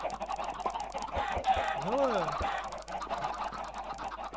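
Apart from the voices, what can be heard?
chickens clucking in Minecraft video game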